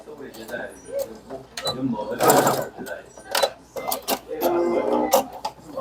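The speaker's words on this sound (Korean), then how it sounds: "그냥 밟기만 하는 미싱" A sewing machine stitches a bag strap in quick bursts of whirring needle clatter, loud and close, split by short pauses and some handling noise, while a person talks now and then.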